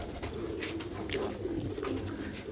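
A pair of Sialkoti pigeons coo close by in soft, repeated throaty rolls that run on steadily, with no one speaking.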